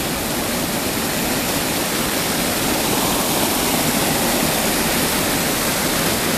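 Strong stream of water rushing past sandbags at a pond on the last day of winter, a loud, steady, unbroken roar of flowing water throughout with no voices.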